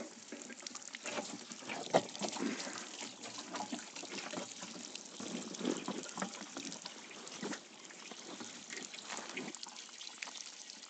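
Water trickles and splashes into the tank of a motorized sprayer being filled for potato spraying, a faint steady pouring patter that runs continuously with small irregular surges.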